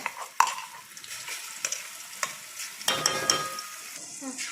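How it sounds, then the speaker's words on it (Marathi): Ground masala frying in hot oil for a spicy village-style amti, with crackling sizzle and repeated spoon scrapes against the pan at uneven intervals, close, no voices. "मसाला हा तेलामध्ये एकदम छान असा परतून घ्यायचा"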